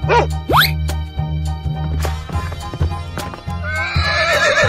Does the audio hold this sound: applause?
no